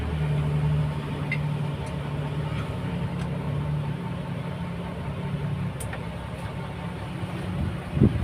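A hydro-vac truck's Isuzu 10PC engine runs steadily at close range with a low, even idle-like drone that holds through the clip, plus a short knock near the end.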